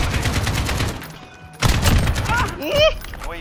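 Gunfire in Modern Warfare: a loud volley of shots and impacts, a brief lull, then another burst of shooting and clattering thuds with a few whistling tones near the end.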